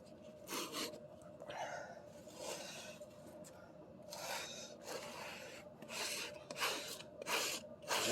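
Scraping excess Everbilt waterproof membrane and Ardex 8+9 thinset off a surface, repeated rasping strokes in an irregular rhythm, close but fairly quiet.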